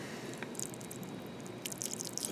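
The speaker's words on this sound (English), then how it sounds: "keep pouring it all in here." Spring water poured from a cup into a tray of pea shoots, heard as a faint, soft trickle and patter of dripping liquid over a low background hiss.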